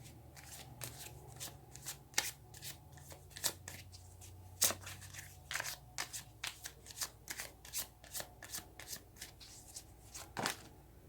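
Tarot cards shuffled by hand, a long run of quick crisp riffles and slaps with uneven rhythm, close up and fairly quiet, with no talking over it.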